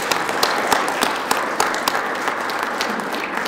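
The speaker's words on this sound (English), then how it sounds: "a round of applause for making this happen" An audience at a morning conference session gives event staff a round of applause, with dense, steady clapping that fills the room at a fairly loud level throughout.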